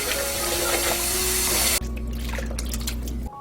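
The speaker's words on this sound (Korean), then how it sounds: "깨끗한 물에서 한번 헹궈주세요." Salted onions are rinsed in clean water under a steady rush of running tap water that stops abruptly partway through, leaving quieter splashes and handling sounds.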